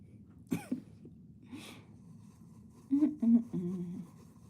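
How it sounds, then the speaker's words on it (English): A person coughing indoors in a quiet room: a few short, separate coughs with pauses between them. "why I cough when I'm in the house"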